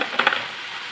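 Chilli powder masala sautéed with ginger-garlic paste in a pan, giving a soft sizzle with a few quick stirring scrapes near the start, then a steady low frying hiss.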